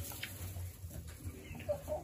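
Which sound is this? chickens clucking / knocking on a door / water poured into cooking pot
chickens clucking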